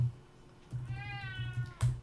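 A single drawn-out cat meow rises and falls, fairly close and soft, set among low background thumps and a brief sharp noise near the end.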